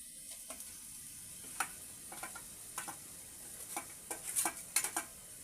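Ground onion and coriander paste sautéing in a pan for chicken curry, a faint low sizzle with scattered light stirring taps growing a little busier toward the end.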